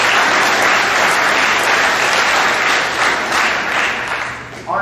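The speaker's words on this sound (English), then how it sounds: "so give them a round of applause." A large crowd applauds steadily at a high school spring sports awards program, with dense, continuous clapping that holds strong throughout and tapers slightly at the end.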